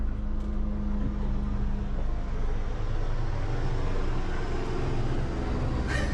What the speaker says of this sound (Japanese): ちょっと待って、上からヘリが来るよ